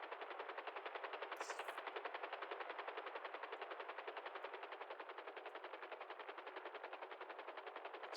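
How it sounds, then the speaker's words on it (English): Rapid automatic gunfire in a video game as an unmarked police officer is shot, a fast continuous stream of shots at an even rhythm throughout. "Unmarked cop getting shot."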